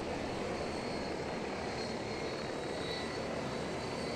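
A helicopter in the video game Arma 3 gives a steady, even engine and rotor roar throughout, loud and close, with no voices over it.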